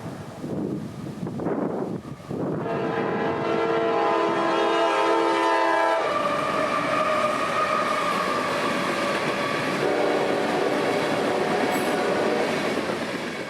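A loaded CSX grain train hauled by two GE wide-cab locomotives rumbles past close by in North Georgia, its horn blaring in sustained blasts while wheels grind and squeal along the rails.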